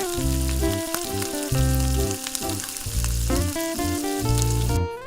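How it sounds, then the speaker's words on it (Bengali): Steady, crackling sizzle of chicken frying in hot oil, continuous throughout, with a tonal melody playing alongside. "গরম তেলে চিকেনগুলো ভাজছি, আর শুনছো সেই ক্রিম্পি সাউন্ড?"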